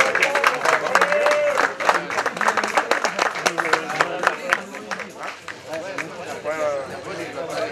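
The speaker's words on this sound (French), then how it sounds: "Gros applaudissements qui lui sont destinés." A crowd applauds at the podium of the Essor Breton 2024 cycling race, stage one, Ploemeur to Languidic in Morbihan, Brittany, for a rider. The dense, lively clapping rises and falls under an announcer's amplified voice.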